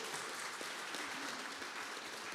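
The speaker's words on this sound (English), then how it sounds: "Can you give Cynthia a round of applause for her?" An audience at a panel discussion on collecting music and vinyl claps steadily and moderately, a continuous, fairly distant wash of hands without talk over it.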